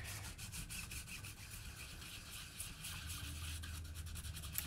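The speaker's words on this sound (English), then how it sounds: "So I'm able to create a texture rubbing in these open areas down here." Ink is rubbed through the open areas of a screen-printing stencil for a monoprint, a faint, steady scratchy rubbing texture heard close up with no talking.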